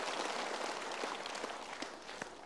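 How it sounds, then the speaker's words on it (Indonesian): Studio audience at a motivational talk show clapping together in a steady, dense wash of applause, moderately loud and sustained throughout. "Kita berikan tepuk tangan untuk Anda yang sudah memilih"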